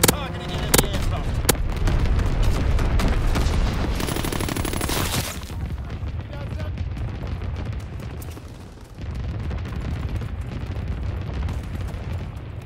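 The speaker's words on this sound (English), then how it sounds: "Flak bursts commenced." Anti-aircraft flak bursts pound in Call of Duty WWII, a loud, dense barrage of booming detonations and rapid gunfire that starts with sharp cracks, then settles into a continuous rumbling roar of distant explosions.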